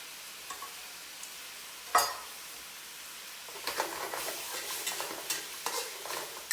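Scallions hit a hot pan with bean curd and are stirred, a sharp scrape near two seconds, then a steady busy sizzle with repeated stirring scrapes and clatters through the second half, no talking.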